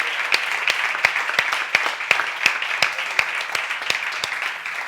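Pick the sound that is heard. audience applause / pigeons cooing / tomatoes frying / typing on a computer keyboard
audience applause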